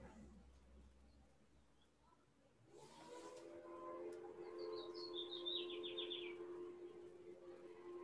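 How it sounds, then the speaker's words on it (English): Faint birds chirp in the background of a quiet room, a short run of bright tweets rising after a few seconds of low hum, distant and soft with no one talking. "I've got some good birds in the background too."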